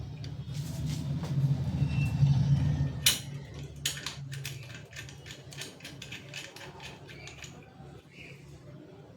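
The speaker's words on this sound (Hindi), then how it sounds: "इस नट बोल्ट को अच्छा से टाइट करेंगे हम लोग।" A nut and bolt on a ceiling fan are tightened by hand at home, giving metallic scraping, creaking and a run of short clicking ratchet-like ticks close by, after a louder rubbing stretch at the start.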